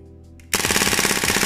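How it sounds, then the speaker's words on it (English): A KSC M93R2 airsoft pistol firing on full-auto, a sudden loud, very rapid burst of shots after a quiet start, continuing to the end. "It's a really fun pistol, it shoots insanely fast"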